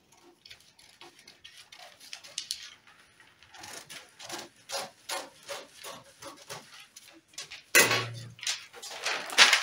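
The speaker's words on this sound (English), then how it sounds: "So I'm going to cut it out and then check." Scissors cut through fabric for a pocket sleeve top with a series of soft, close snipping and rustling strokes, sparse at first and then more regular, with one louder rustle of handled cloth near the end.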